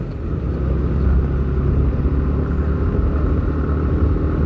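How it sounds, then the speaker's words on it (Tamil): A motorbike labours up a steep slope on a ride around Chikmagalur, its engine giving a steady, close, low rumbling drone throughout. "பைக் ஏறதுக்கே ரொம்ப கஷ்டம் இருக்குது,"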